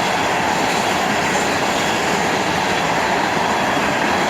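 An FEC freight train hauling many tank cars rolls past close by at a detector site, a loud continuous roar of wheels and rattling cars with a steady clatter throughout.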